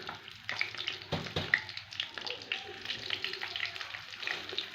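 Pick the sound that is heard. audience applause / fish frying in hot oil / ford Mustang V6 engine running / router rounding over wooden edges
fish frying in hot oil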